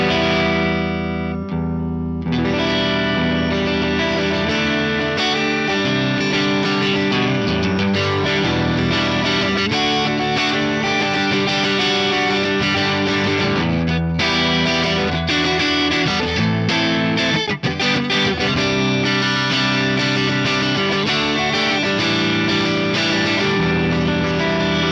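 An electric guitar plays through an Axe-Fx III with London plate reverb, a sustained chiming, effects-laden tone ringing loud and continuous with a brief break partway through.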